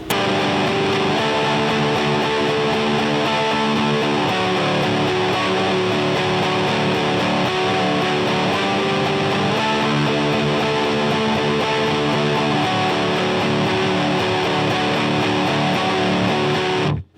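Heavily distorted electric guitar drones a thick, sustained octave riff, dense and loud throughout, with no voices.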